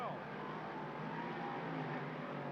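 Big block modified race cars roar around Lernerville Speedway during the A-main, engines droning and sweeping past at a distance, fairly faint beneath a commentator's voice.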